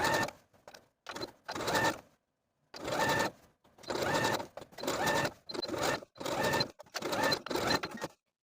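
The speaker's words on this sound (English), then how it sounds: "we want to top stitch that seam allowance in place all the way around" A sewing machine topstitches the seam allowance of a t-shirt neckband in a series of short, close bursts, about a dozen start-stop runs of under a second each with brief silent gaps between.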